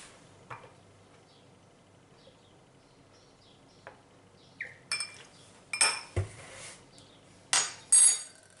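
A spoon mixing a dressing of olive oil, vinegar and salt in a bowl, with sharp metallic clinks and scrapes coming in uneven bursts after a quiet start.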